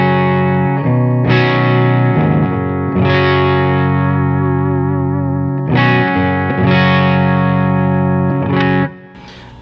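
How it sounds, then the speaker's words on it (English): Electric guitar played through an Xotic AC Booster pedal with gain all the way down, volume near unity, and treble and bass centered, giving loud sustained chords struck in a steady rhythm of repeated strums with a slightly driven tone. "so now if we step on the AC booster here"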